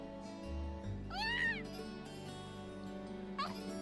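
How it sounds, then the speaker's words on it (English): In a video game, a cat gives two rising, wavering meows, one near the middle and a shorter one near the end. Both sit over a steady background of game music and hum. "She meowed."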